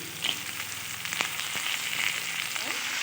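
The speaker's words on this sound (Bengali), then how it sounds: "আলুগুলো ফিফটি পার্সেন্টের মতো ভাজা হয়ে গেছে এবার আমি এতে অ্যাড করে দিচ্ছি পেঁয়াজগুলি" Potatoes and onions sizzle and crackle steadily in a hot pan, with occasional stirring scrapes, no voices.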